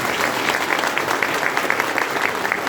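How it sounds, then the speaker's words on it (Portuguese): Audience applause at a SAMU regionalization event, dense, steady clapping from a crowd filling the whole moment. "Mais palmas eles merecem."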